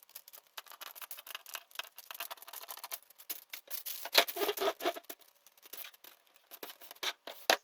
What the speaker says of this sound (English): I'm going to use a pair of scissors just to cut it out.